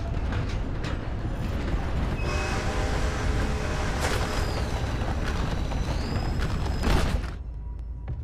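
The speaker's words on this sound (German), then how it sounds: "Fahr jetzt den Zug." A train rumbles along steadily in the video game Red Dead Redemption Online, a loud continuous roar of wheels and rattling cars with faint tonal squeals, tapering off near the end.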